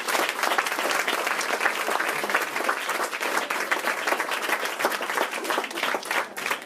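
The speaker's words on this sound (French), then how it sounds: "je voudrais qu'on les applaudisse tous les quatre," An audience at an event claps together in steady, dense applause, sustained throughout and heard from within the room.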